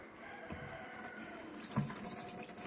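Water is strained and poured into a sprayer, a soft steady trickle and splash at low level with a brief louder splash near the middle.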